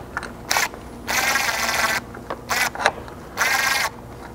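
Blitz rock slider bolts on a Nissan Frontier are tightened with a hex key while a wrench holds the nut, giving several short bursts of ratcheting, clicking metal with brief pauses between them, close up and without talk.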